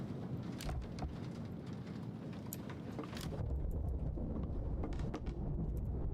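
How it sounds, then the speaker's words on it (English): Rain pours steadily in the Casting Whispers video game, a continuous hiss with scattered sharper drops and a deeper rumbling swell partway through. "This one I hear the rain."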